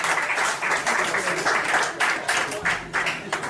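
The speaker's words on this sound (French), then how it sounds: "Un tonnerre d'applaudissements s'il vous plaît." Applause fills a small jazz club during a sextet concert in Mulhouse, a dense, continuous wash of clapping that swells and dips slightly, with a voice briefly audible over it.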